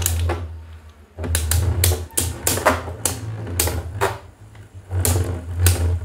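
Astral Spriggan and World Spriggan spinning tops clash in a stadium, loud rapid metallic clicks and rattling impacts in irregular bursts over a steady low whirring hum, close up with no talking.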